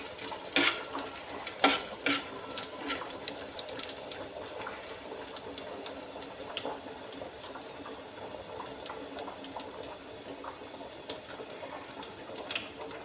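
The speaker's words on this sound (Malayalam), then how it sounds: "കടുക് പൊട്ടി വരുന്നതേ ഉള്ളൂ." Mustard seeds spluttering in hot oil in a home kitchen pan: scattered sharp pops and crackles over a soft steady sizzle, busiest in the first couple of seconds and then thinning to sparse pops, with no talk.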